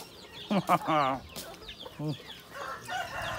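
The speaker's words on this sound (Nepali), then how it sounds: "कुखुराहरू छ यहाँ" Chickens in a village yard in Bardiya, Nepal, cluck close by, giving a few quick clucks and a drawn-out call, then softer clucking.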